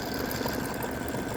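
An embroidery machine stitches a patriotic stars-and-stripes block, making a continuous close mechanical whir with a fast, even rattle and no talking.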